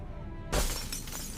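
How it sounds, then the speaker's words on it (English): Glass shatters suddenly and loudly after a quiet stretch, shards scattering and ringing briefly before settling into a fading rattle; no separate wingbeat stands out. "Sound of glass shards falling, heavy wings flapping once, fading fast."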